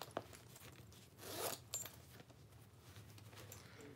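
A zipper on a handbag's inside pocket is pulled open in one quick, quiet rasp, set against soft handling rustles.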